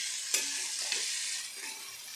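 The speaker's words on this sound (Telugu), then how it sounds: "ఇప్పుడు ఇదంతా బాగా ఫ్రై అవ్వాలి" Biryani masala frying in a pan gives a soft, steady hiss with a couple of faint stirring knocks, fairly quiet and close.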